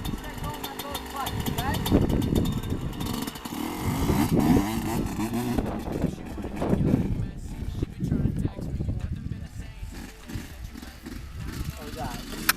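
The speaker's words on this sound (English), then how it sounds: "Once you start going, let go of the clutch." A dirt bike engine runs and revs throughout, largely buried under loud, excited talking and shouting from people nearby.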